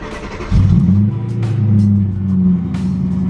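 A BMW E92 M3 engine starts up and revs loudly nearby, a deep rumbling roar that rises and falls a few times.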